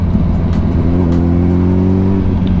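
Motorcycle engine pulling through a hairpin on a winding canyon road, loud and close, a steady droning note that climbs slightly as the throttle is held on.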